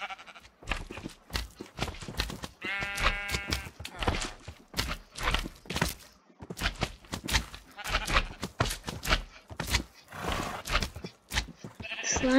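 Sheep bleating in a flat-world sandbox video game, a few short wavering bleats around the third second, surrounded by bursts of loud speech and game noise.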